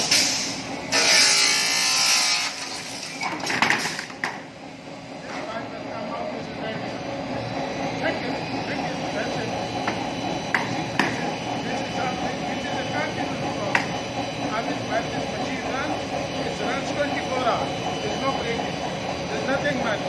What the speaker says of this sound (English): This cutter will cut the pipe and automatically this will bend down and the pipe comes.